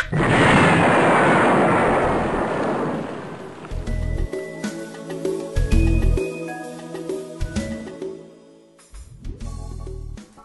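A loud, sustained explosion rumble fills the first few seconds of a comedic political radio drama, then fades into scattered crackling debris and thumping bursts, with a final low boom near the end.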